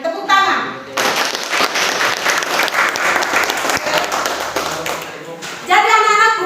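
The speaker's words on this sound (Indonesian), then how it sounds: "Tepuk tangan." A classroom of children clapping together during a school lesson, brisk and fairly loud, with a teacher's voice speaking briefly before and after the applause.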